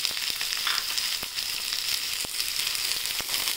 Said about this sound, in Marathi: कांदा आपण परतून घेऊया।